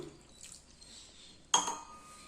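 Water from a three-quarter tumbler splashes quickly into a pan holding palm jaggery for urad dal kanji, a short, quiet burst after faint kitchen clinks and near-silence.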